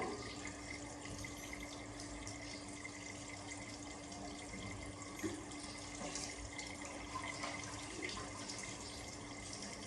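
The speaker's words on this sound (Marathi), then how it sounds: "नळ बंद करा मावशी." A water tap runs in a steady, faint stream, a soft continuous splashing flow heard from some distance with no talking.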